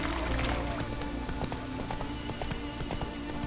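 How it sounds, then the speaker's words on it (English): A horse gallops in The Witcher 3, a quick continuous patter of hoofbeats over dense game background noise, brief and steady. "Not so fast, Roach."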